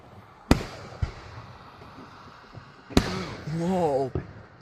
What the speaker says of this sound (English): More fireworks right there